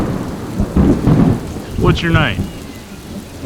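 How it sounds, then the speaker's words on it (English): A thunderstorm with steady rain and low rumbling thunder during a cat rescue from a tree, the downpour hissing throughout while a person speaks briefly over it. "I think we got a thunderstorm coming in."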